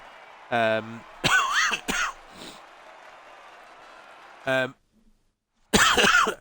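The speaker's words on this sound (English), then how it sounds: "I have a little bit of a cough going on" A person coughing during a racing league broadcast, with a few short, harsh bursts separated by pauses and close to the microphone.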